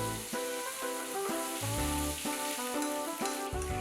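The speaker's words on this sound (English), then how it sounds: "Oil the pan with olive oil and roast the fillet." Sea bass fillet roasting in olive oil in a pan, a steady close sizzle and crackle of hot oil with a few shifts in intensity, no voices.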